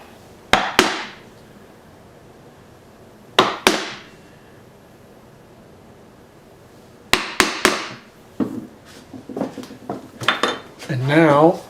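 A chisel chops into wood while concealed dovetails are being cut: sharp double-struck knocks arrive in clusters with long pauses between them, followed by a run of lighter taps and scraping, close up and clear.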